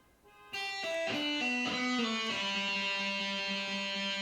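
A guitar plays a short riff, notes sliding and pulling off into a ringing low note that sustains, heard alone and moderately quiet.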